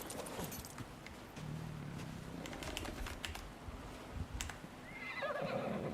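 A horse in a survival video game gives a whinny over a busy background of keyboard typing and clicks, the neigh rising clearly near the end.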